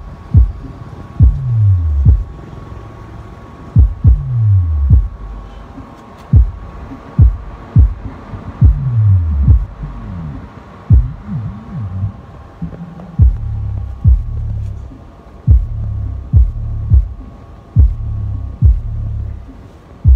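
Deep bass from a Tosunra subwoofer driven by a Sonora P9500 amplifier, thumping in repeated booming pulses with falling low tones, loud and close with no talk.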